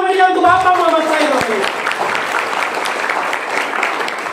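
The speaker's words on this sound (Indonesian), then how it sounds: "Beri tepuk tangan yang sangat meriah" Audience applause at an Indonesian business marketing-plan seminar, crowd clapping that rises under a voice and sustained musical tones at the start, then continues as steady, dense clapping on its own.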